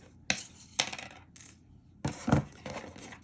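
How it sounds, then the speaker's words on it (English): Wire cutters snip thin beading wire on a herringbone beaded earring, giving a handful of sharp, close metallic clicks spaced irregularly with quiet pauses between. "I'm going to trim those wires as close as I can get them."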